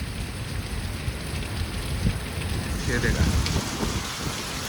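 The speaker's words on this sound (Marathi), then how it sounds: "आता पाऊस थांबायचं नाव नाही घेत" Heavy rain pours steadily near the seashore, a dense close hiss and patter that stays constant throughout, with someone briefly speaking over it.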